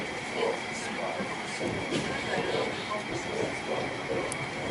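Train standing at Pionersky Kurort railway station, a steady broad rumble and hiss with faint clanks, heard from close by on the platform under low background chatter.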